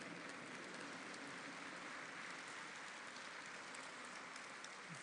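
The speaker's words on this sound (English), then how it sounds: "give the young men a standing ovation" A standing ovation at an academic commemoration ceremony for young men, a dense, steady wash of clapping that fills the whole stretch without a break, heard from within the crowd.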